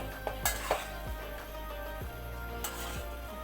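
Noodles stirred in a home kitchen pot, a utensil scraping and clinking against the metal in a few scattered strokes, close by over a steady low background hum.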